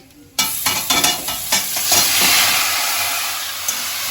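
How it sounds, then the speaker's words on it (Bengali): Grated papaya drops into hot oil in a pan and bursts into a loud, close sizzle, with a few scraping stirs early on that settle into a steady frying hiss, and no speech. "দিয়ে পেঁপেটাকে একটু ভাজা ভাজা করে নেব"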